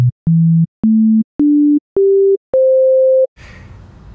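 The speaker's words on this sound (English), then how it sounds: "we have a sine wave." Pure sine tones from a Serum synthesizer sound as a series of clean beeps stepping upward in pitch, each a short held note, with a longer final tone followed by faint noise.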